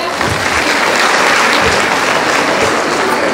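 Loud, steady applause from an audience at a women's empowerment group gathering in Hanumakonda, Warangal, dense clapping filling the whole stretch close up.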